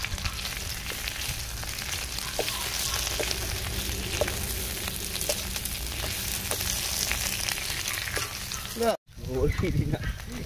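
Dried red chillies and bay leaves fry in oil in a pan, giving a continuous bright crackling sizzle with occasional stirring sounds, and a short break near the end.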